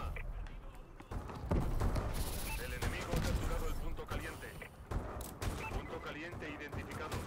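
Gunfire from the Call of Duty: Advanced Warfare video game, with repeated sharp shots and bursts in irregular rhythm over a busy in-game soundscape, loud and close throughout.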